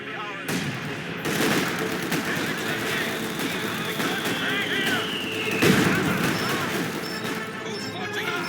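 Artillery and gunfire in the World War II strategy game Company of Heroes 2, a dense continuous battle din of crashes, shots and explosions with a whistling shell and a louder impact partway through, with voices mixed in underneath.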